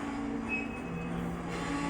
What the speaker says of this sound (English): Give y'all a little train action going